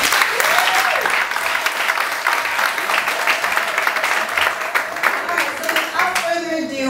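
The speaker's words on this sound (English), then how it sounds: "Can we give her a hand clap for that?" Sustained applause from a crowd celebrating a woman's graduation and thirtieth birthday at a party, dense hand clapping throughout with voices mixed in, and some cheering near the end.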